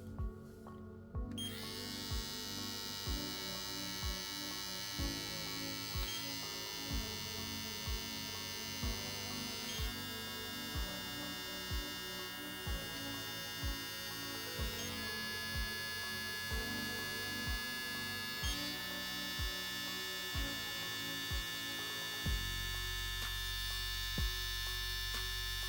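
A VGR V970 electric hair trimmer runs with a steady buzzing motor hum, close and continuous, with brief bumps as it is handled and a change in tone near the end.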